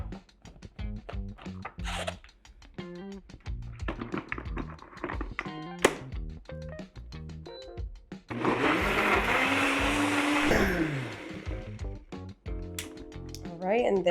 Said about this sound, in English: All right, now time to blend.